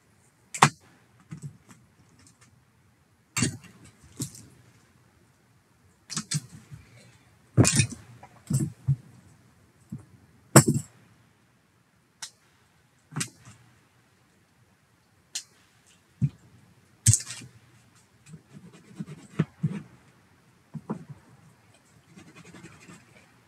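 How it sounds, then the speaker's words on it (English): Cutters snipping plastic model car parts for a Tamiya TT-02 kit off the sprue tree: sharp, close clicks and snaps come singly and in small clusters, separated by quiet pauses with faint handling rustle between them. "So I'm gonna cut this off the tree."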